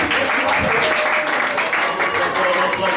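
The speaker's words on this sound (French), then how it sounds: "Nous acclamons très fort notre Dieu" A church congregation claps loudly during an afternoon service, a dense, steady wash of applause lasting throughout with a faint tonal backdrop underneath.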